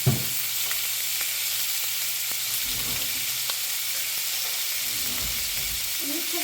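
Chuck eye steak frying in butter in a pan, a low steady sizzle with faint occasional clicks, fairly quiet and without speech.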